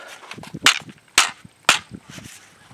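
Three crisp gunshots from a Zastava ZPAP M90PS rifle at an outdoor range, each a short sharp crack spaced about half a second apart amid softer background clatter.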